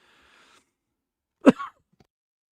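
A single short cough, close and fairly quiet, following a faint sound and then silence.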